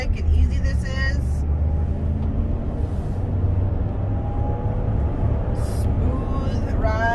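A 2022 Jeep Wagoneer accelerates onto an interstate, heard from inside as a loud, steady low road and engine rumble with a voice over it.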